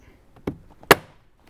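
Two sharp plastic clicks, a softer one then a louder snap about half a second later, close up with nothing else around them, as a door switch panel snaps into place in a Toyota Tacoma.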